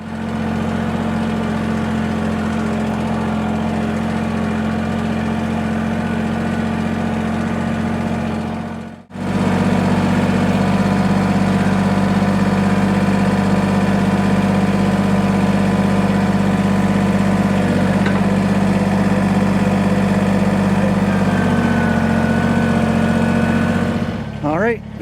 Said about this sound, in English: So let's get the tractor.